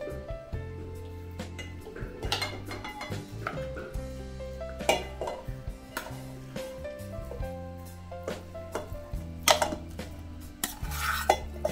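Cooked kheer being scooped out into a pot, with repeated metallic clinks and scrapes of a spoon against the vessel, sharp close knocks scattered irregularly over a quiet kitchen background.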